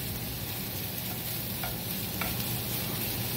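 Marlin pieces frying in a pan, an even, steady sizzle with a couple of faint stirring scrapes, close by and without speech.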